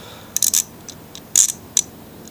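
Ratchet clicking as it works the shroud bolts off a Poulan Pro mower, several short bursts of clicks with gaps between them, close and alone.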